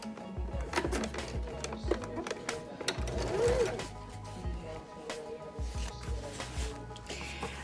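A sewing machine stitches a satin silk dress, its motor whirring in short bursts with pauses between runs, close by, alongside faint rustling of fabric and handling.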